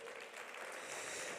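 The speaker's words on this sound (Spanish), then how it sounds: "Lo despedimos con un aplauso, por favor." A hall audience at a Catholic university federation's general assembly claps to see off a panel of speakers, a steady, fairly soft wash of applause lasting the whole moment without a break.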